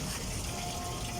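Water gushes steadily while a motorcycle is being washed, a continuous close rushing spray with no break.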